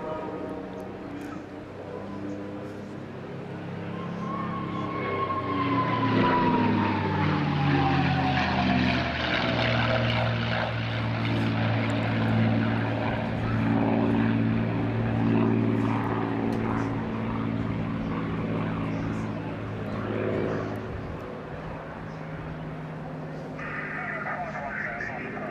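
A P-51D Mustang warbird makes a propeller flying display pass, its loud piston engine drone swelling and shifting pitch as it sweeps by, with a commentator talking over it.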